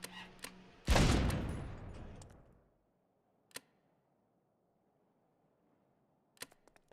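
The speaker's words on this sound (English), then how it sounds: "I'm going to test the heavy autocannon" Heavy autocannon firing frag rounds in the vehicle-building game StormWorks, one loud booming blast that rolls off over about two seconds, then a few faint sharp clicks in near silence.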